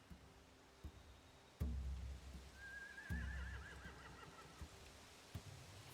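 Horses whinny with a wavering, trembling neigh in a video game set in The Walking Dead, accompanied by a few sharp thuds and stamping knocks, fairly faint against quiet background noise.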